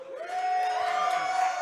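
A live radio broadcast audience at a Buffalo Wild Wings in Burleson lets out a short burst of crowd cheering and whooping, with a thin steady whistle-like tone running through it.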